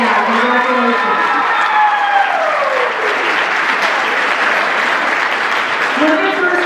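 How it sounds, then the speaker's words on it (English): A 2014 IB graduating class at North Vista applauds itself, loud sustained clapping and cheering from a large crowd, with voices and whoops rising over the continuous wash of hands. "please give yourselves a round of applause"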